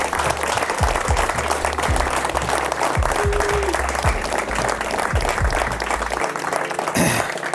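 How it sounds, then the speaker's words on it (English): Audience applause at the Footgolf Irish Open 2022 presentation, a loud, sustained wash of many people clapping from close by, with a few voices and a brief throat clear mixed in. "I'd like a round of applause at the end for the 4 of them"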